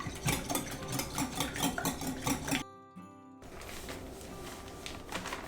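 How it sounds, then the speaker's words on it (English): Pasteurized egg whites are whisked until frothy in a bowl, a rapid, steady rhythmic clatter of the whisk, briefly pausing midway before resuming more softly. "I'm just going to give it a little whisk until it gets a little frothy"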